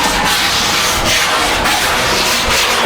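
Harsh, rhythmic rubbing of a sanding block scraping back and forth across a surface, loud and close, with regular strokes.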